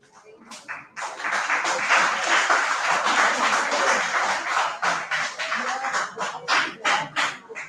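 An audience applauds after a student presentation on global warming and greenery, with dense clapping building quickly, holding steady for several seconds, then breaking into scattered individual claps, some voices faintly mixed in.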